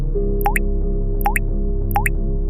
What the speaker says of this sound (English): Then, faint drip.